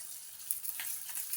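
Coriander seeds, cumin and green chillies sizzle steadily in hot oil, a close, hissing crackle with faint pops throughout and no talking.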